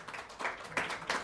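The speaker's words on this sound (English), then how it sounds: "Can we have a big round of applause for" Faint audience applause at a Student of the Year press conference in Dubai, a soft patter of many hands clapping with a few louder bursts, brief and distant.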